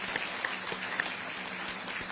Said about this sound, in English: So we give the Congressman a round of applause